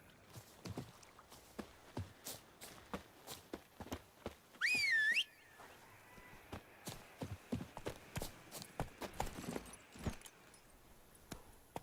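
Horse hooves clip-clopping steadily at a moderate pace in The Witcher 3, a faint, even rhythm of soft knocks with a brief whistle-like tone partway through.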